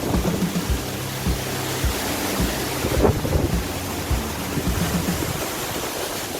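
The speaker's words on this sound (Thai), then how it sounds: "นี่คือความยิ่งใหญ่ของน้ำตกคลองลาน" A steady, loud roar of rushing water fills the clip, broad and unbroken, from the Khlong Lan waterfall in Thailand close by, with no voices.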